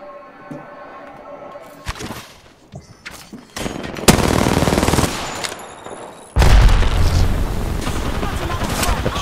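Gunfire in a shooter video game starts with scattered sharp single shots over a quieter bed, then breaks into dense, loud sustained bursts of automatic fire that stay close and heavy to the end.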